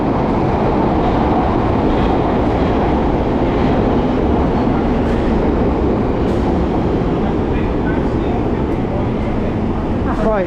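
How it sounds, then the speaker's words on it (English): A loud, continuous roar of a London Underground tube train arriving, rumbling and screeching close by, with voices faintly audible beneath the noise. "here's our tube, here's our train"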